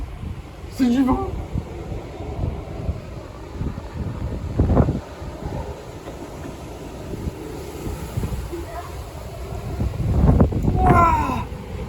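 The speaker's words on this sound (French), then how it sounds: "C'est du vent." Strong storm wind gusts buffet the microphone during a storm chase with tornadoes, rumbling and roaring in waves with louder bursts near the middle and end, while people exclaim and talk over it.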